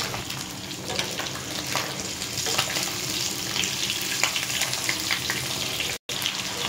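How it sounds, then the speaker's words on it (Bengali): Steady, dense sizzling of hilsa fish frying gently in oil in a pan, heard close up with faint crackles throughout and a momentary cutout near the end. "আস্তে আস্তে ভাজাটা হোক।"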